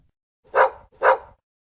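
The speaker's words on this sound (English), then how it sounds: "Pup barks in the dark night." A dog barks twice in quick succession, two clear, evenly spaced woofs close by against silence.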